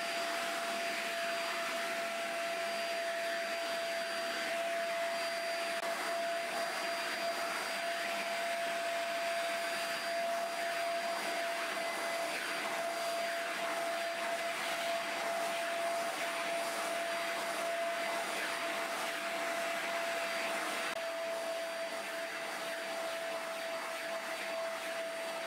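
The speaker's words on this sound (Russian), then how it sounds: "И начинаем пылесосить." A vacuum cleaner drones steadily throughout, a constant whirring motor with a high whine, close and continuous with no speech.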